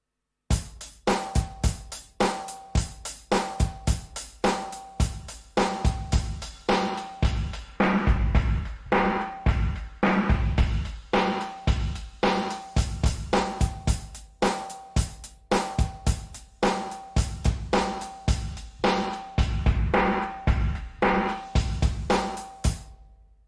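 A Yamaha DTX6 electronic drum kit plays a steady groove with filtering across the whole kit, punchy kicks and snares hitting in a regular pattern, loud and close for over twenty seconds.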